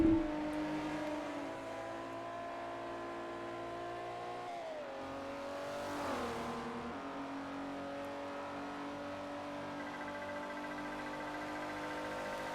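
Race cars, including an Acura NSX, a Porsche and a BMW Z4, run in Forza Motorsport 4 with a steady, droning engine note. The pitch dips and rises as the cars shift and pass, and nobody talks over it.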